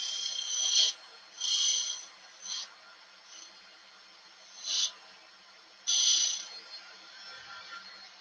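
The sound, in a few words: scraping wood and resin blank on a lathe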